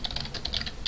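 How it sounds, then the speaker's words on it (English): Rapid keystrokes on a computer keyboard while Java code is entered, a quick run of light clicks close up for under a second. "So I'm going to go ahead and type import"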